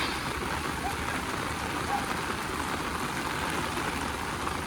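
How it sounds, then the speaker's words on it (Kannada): Heavy rain pours down at Talacauvery in Coorg, a dense, even hiss of falling water that holds constant throughout without a break. "ಸಖತ್ ಮಳೆ ಗೈಸ್ ಸಖತ್ ಮಳೆ"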